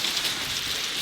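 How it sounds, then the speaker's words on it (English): Steady rain falls on the shore during a plaice fishing session at the top of the tide, a dense, even hiss of drops hitting the surface close by with no talking. "Rain."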